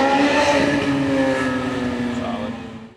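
A car runs a red light through a city intersection in Rochester, its engine roaring loudly past at close range with a steady tone that fades away over a few seconds.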